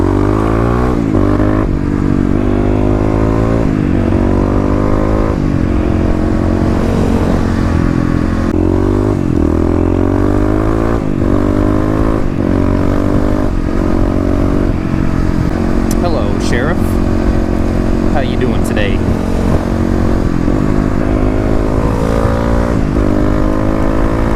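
A Kawasaki KLX351 EFI dual-sport motorcycle rides through city streets, its engine droning steadily close up and rising and falling through gear changes, with a rider talking over the steady engine noise.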